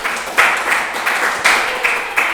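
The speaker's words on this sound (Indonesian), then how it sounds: "Boleh kasih tepuk tangan." Audience applause at an event with a Surabaya choir leader, a steady mid-level wash of clapping that swells in a few brief surges across about two seconds, with no talking over it.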